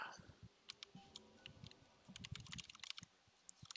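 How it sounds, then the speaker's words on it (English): Quiet, close computer keyboard typing heard during a gaming speedrun session: irregular clusters of soft key clicks and taps with short pauses, getting busier in the second half. "Is it your way of saying that you can hear the keyboard?"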